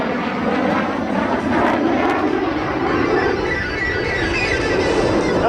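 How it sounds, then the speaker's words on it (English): A Panavia Tornado fighter jet in an aerobatic display roars with a steady, broad, loud engine rumble that holds evenly throughout, without any voices. "As the aircraft turns around high and to the right, the Tornado's versatility is further enhanced"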